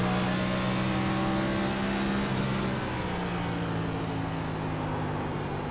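Race car engines in the iRacing sim at Phoenix, a sustained mid-pitched drone with engine tones stepping down as the cars downshift, steady and moderately loud with no voices.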